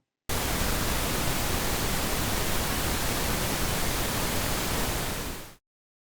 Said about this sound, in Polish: Szum różowy jest to specjalny rodzaj sygnału testowego wykorzystywany w pomiarach akustyki pomieszczeń zamkniętych.